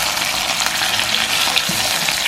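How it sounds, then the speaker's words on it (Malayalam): Chicken pieces frying in a pan while being turned over, a steady close sizzle and crackle of hot oil with soft scraping from the turning, continuous and fairly loud. "അപ്പം നമുക്കിനി ഈ ചിക്കൻ ഒന്ന് മറിച്ചിട്ട് കൊടുക്കാം."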